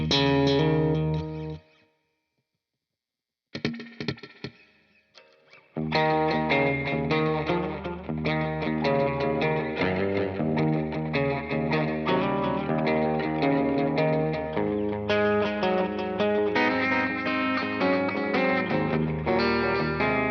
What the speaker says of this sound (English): I'll go back to the delay and I'll set it to this vintage kind of like a slapback, so it sounds like this.